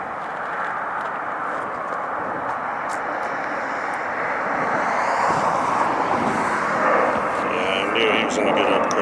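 A Lufthansa Boeing 747 on its landing roll at LAX, a loud, steady jet roar that swells slightly toward the end, heard from nearby.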